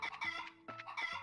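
Game chickens clucking in Trails in the Sky, three short bursts of clipped, squawky fowl calls separated by brief gaps, clear and close with no talk.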